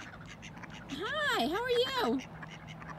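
Ducks quack close by at a pond or lakeside where geese and swans also gather, a short burst of several rising and falling calls under a person's brief greeting.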